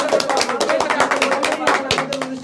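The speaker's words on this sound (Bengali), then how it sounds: "একটু হাততালি হবে।" Rapid clapping from a few people during a live stream, steady and close, with a voice talking over it throughout.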